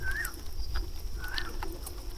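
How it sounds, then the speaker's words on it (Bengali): Small birds chirping around midday in Jatiyo Uddan national park in Bangladesh: a couple of brief, moderately distant calls rise over a steady outdoor background hum. "স্টিল এই লেভেলের মানে পাখির আওয়াজ,"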